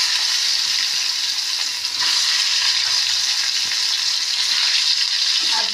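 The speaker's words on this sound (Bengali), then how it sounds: "এবার এই তেলে দিয়ে দেবো পেঁয়াজ," Onions tipped into hot oil left over from frying fish for a parse fish jhal, giving a loud, steady, continuous sizzle close up with no voices.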